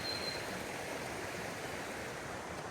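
A river in the North Pennines of County Durham flows steadily near a campsite, a continuous broadband rush of moving water with no pauses and no voices.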